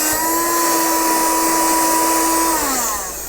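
An STHOR 82954 portable cordless car vacuum cleaner runs with a loud, steady high whine and motor hum, then its pitch drops near the end as it winds down. It is heard close up with no talking.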